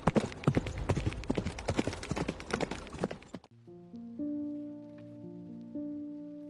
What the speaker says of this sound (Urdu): اس کا گھوڑا دراز قد سوار کے بھڑکے ہوئے گھوڑے کے پیچھے دوڑتا چلا